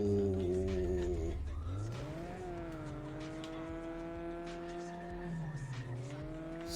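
Car drifting in a racing video game, a sustained engine drone rising and falling in pitch through a long controlled slide, with a steady tonal squeal layered on top.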